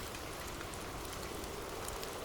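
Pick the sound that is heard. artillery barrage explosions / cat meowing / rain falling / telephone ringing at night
rain falling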